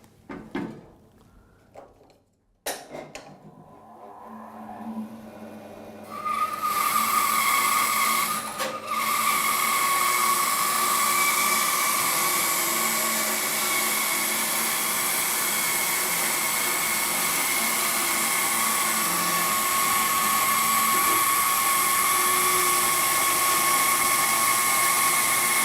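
A Record Power BS400 bandsaw with a 2 horsepower motor runs up to speed and cuts timber, a steady loud whine holding for about twenty seconds after a brief quiet start.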